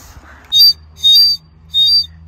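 A bird-shaped water whistle toy is blown three times in a row, each a shrill, warbling chirp lasting about a quarter second, close and loud over a faint low hum.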